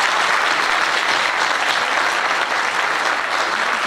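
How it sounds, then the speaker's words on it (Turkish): A large audience applauds a saz ensemble at a choir concert, dense sustained clapping from many hands, loud and continuous with a faint crowd murmur. "saz heyeti için yürekten bir alkış istiyorum"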